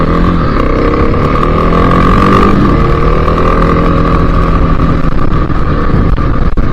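A Kawasaki KLX 300 dirt bike engine drones steadily and loudly up close, with a slight rise in revs partway through and wind buffeting the mic on a cold January day.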